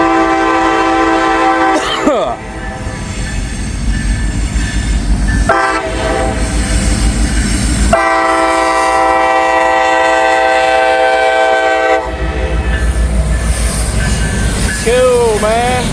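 A GP38-3 locomotive hauls a freight train past close by, its horn blasting in several long, loud sustained calls over the steady rumble and clatter of the cars.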